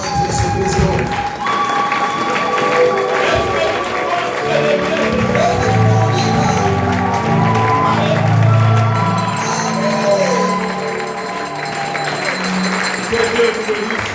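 A church congregation applauds and cheers for the Lord at a Sunday service, a dense, loud wash of clapping and crowd voices sustained throughout, with music-like tones underneath.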